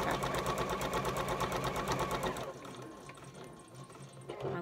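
A sewing machine stitches fabric strips for patchwork with a fast, even mechanical whirr for a couple of seconds, then stops, leaving quiet room noise and a small clunk.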